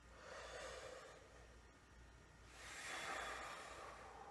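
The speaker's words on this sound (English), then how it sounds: "take a nice relaxed breath in" A relaxed, deep breath drawn in slowly through the mouth by a tuba player sitting upright, faint and airy, rising to a fuller inhale in the second half.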